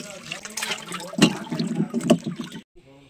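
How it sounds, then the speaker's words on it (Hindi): Vegetables are rinsed by hand in water in a home kitchen in the Indian hills, with sloshing, splashing and trickling that swells in the middle, then a brief pause before a little more water movement. "2-3 पानी से अच्छे से धो लेते हैं।"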